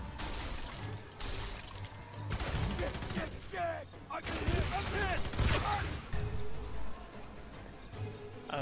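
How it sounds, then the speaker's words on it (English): Gunfire in the shooter F.E.A.R. 3: bursts of rapid automatic shots crackle close and loud in several clusters, with players chattering over the combat. "I just shot that guy in the ass"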